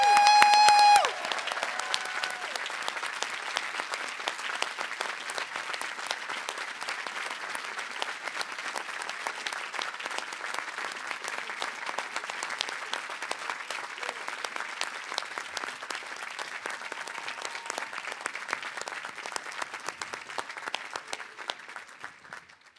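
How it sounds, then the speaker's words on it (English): Sustained applause from a large audience at a 2022 college commencement ceremony, dense and steady for about twenty seconds before gradually fading out. "Can we please celebrate them by giving them a round of applause?"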